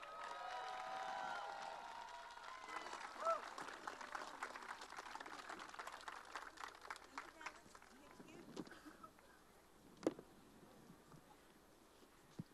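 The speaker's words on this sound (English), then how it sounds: "Let's give a warm round of applause for Sahar at this time." Crowd at an outdoor climate march rally in Washington, D.C. applauding and cheering, a broad wash of claps and voices fading over several seconds, followed by scattered sounds and a sharp knock.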